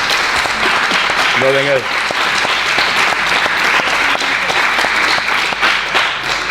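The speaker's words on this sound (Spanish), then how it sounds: "se puede aplaudir si queréis" Audience applause during a Spanish-language talk, loud sustained clapping from a crowd with a brief spoken word and a short voiced sound cutting through partway, then continuing evenly to the end.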